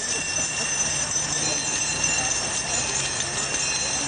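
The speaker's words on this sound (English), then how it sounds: "ring their bells in unison now" Many handheld bells ring together as celebrants at a graduation ceremony in New Jersey honor the four directions. The high, shimmering jangle is continuous and even, over a low murmur of the gathering.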